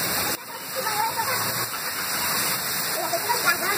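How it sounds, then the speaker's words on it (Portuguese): Heavy rain pouring down in Fortaleza, a steady loud hiss of dense rainfall close by that holds constant throughout, with a voice speaking under the downpour. "Ah, aumentou mais a chuva"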